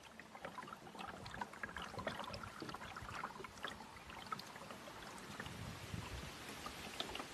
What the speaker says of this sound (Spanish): El sonido del mokoro al deslizarse sobre las aguas es lo único que perturba la asombrosa calma